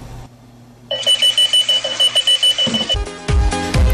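Runaway alarm clock ringing loudly in rapid, regular bursts of bright electronic beeps, followed by a louder clattering, buzzing stretch at the end.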